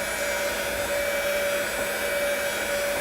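A heat gun blows hot air during a pond filter build, giving a steady, even whoosh with a constant whine that holds unchanged for three seconds, close and alone.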